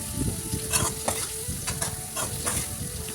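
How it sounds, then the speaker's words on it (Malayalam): Bitter gourd pachadi with chili powder and salt being stirred and sautéed in a pan, a steady sizzle and fry with repeated scraping stir strokes throughout, close and alone without talk. "ഉപ്പൊക്കെ ചേർത്ത് നന്നായിട്ട് ഇതൊന്ന് വഴറ്റിയെടുക്കുക"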